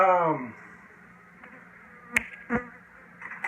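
Honeybees buzz faintly around a hive during an inspection, with a few short sharp knocks and taps nearby on a quiet background.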